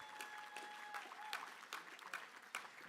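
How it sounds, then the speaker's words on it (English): An awards dinner crowd applauds musician Jim Kwan with moderate, scattered clapping. Individual hand claps stand out against the room, and a faint tone lingers early on. "another round of applause to our friend, the very talented Jim Kwan"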